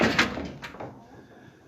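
A farm door swings and shuts, giving a couple of close knocks and a bump that fade into a quiet, faint room tone.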